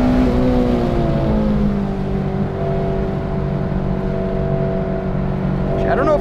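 A spec Miata race car runs close by on a track beside a modified 8th-gen Civic Si, its engine note a steady, sustained drone under cabin noise, with faint voices.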